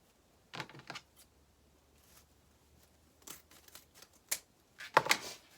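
Stems from a Valentine wreath kit are cut, giving several crisp snips in quick bursts separated by quiet pauses, close and clear with no speech.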